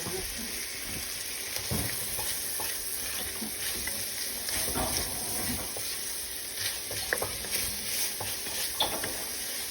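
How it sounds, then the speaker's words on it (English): Chopped onion sautéing in a hot pot on a home stove, a steady close sizzle with occasional stirring scrapes and clinks, nobody talking. "Onion, you're up. Saute 5 minutes or until soft and golden."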